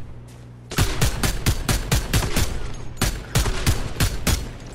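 Gunfire in the video game Fortnite: a short pause, then a rapid string of a dozen or so loud, sharp shots fired in quick uneven bursts, close and unaccompanied by talk.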